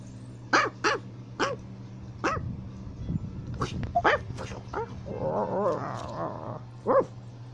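Chihuahuas and Huskies bark and yip in short bursts, some sharp and high, others with a rougher howling quality, close by, with a person talking over part of the noise.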